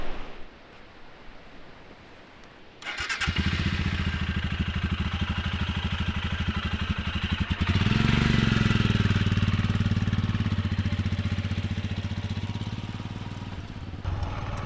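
A motorbike engine rumbles loud and close as the rider sets off along a beach track in New Zealand's Hurunui Valley, starting after a quiet lead-in and swelling into a steady, throaty drone that holds to the end.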